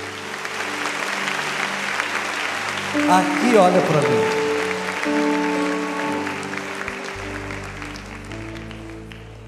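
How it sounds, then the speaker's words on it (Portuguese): A church congregation applauds, a dense sustained round of clapping under a preacher's amplified voice and held organ chords. "Vocês podem aplaudir a Deus pela vida."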